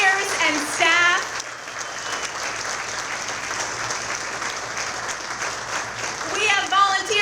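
A room full of supporters at an election night victory celebration in Glens Falls applauds steadily, a dense wash of clapping with a speaker's voice before and after it.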